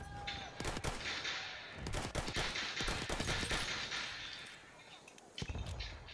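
Gunfire in Battlefield 1 multiplayer Conquest on PS4, with rapid bursts of automatic fire and scattered shots rattling almost continuously, loud and near, with occasional short pauses.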